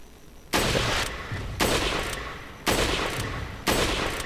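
Sniper rifle shots in Resident Evil 4 on the Wii crack out as four loud, evenly spaced blasts about a second apart, each with a sharp attack and a short ringing tail.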